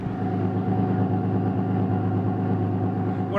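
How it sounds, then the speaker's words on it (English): A 2007 Ford Ranger FX4 idles through its exhaust with a steady, deep growl that stays even and close throughout, with no voices over it. "What I like about this exhaust is it's not very raspy. It's a nice growl to it"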